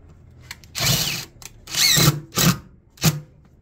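A power drill whirs in several short bursts, close by, with brief pauses between each run as it drives screws into a subwoofer speaker enclosure.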